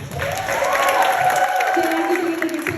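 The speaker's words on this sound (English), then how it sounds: "give yourselves a round of applause" An audience at a drag show applauds and cheers, with a sustained crowd roar and a rising vocal whoop over the clapping.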